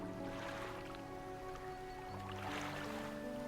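A fishing boat with a newly bought engine moving through water in the game Dredge, giving a steady low engine drone under a continuous wash of water, with louder splashing swells at the start and end.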